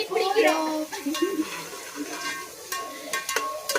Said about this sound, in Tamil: வெங்காயம் நல்லா வதங்கிடுச்சுமா.